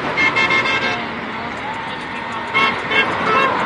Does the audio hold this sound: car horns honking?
yes